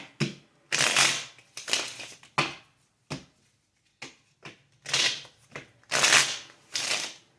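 A deck of playing cards is shuffled repeatedly, with several loud riffling bursts separated by brief pauses and a few short snaps, close to the microphone with no talking.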